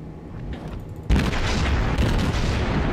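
Naval guns boom in a World of Warships battle between the cruiser Aoba and a battleship. A heavy blast lands about a second in, then a dense, rumbling barrage rolls on, loud and continuous.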